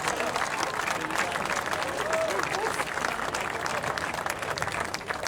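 An audience applauds a congressman at an outdoor dignitaries' celebration for the upcoming opening of a bridge in Kansas City, a steady wash of crowd clapping that runs throughout, with faint voices mixed in.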